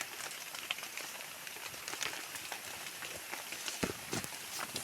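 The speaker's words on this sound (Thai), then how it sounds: "ตอนนี้ฝนก็ตกอยู่จ้า" Steady rain patters close by in a forest, a dense hiss of drops with a few louder taps standing out.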